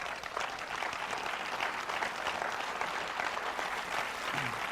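A church audience breaks into sustained applause, a continuous dense patter of many hands clapping evenly throughout, moderately distant and without any talk over it.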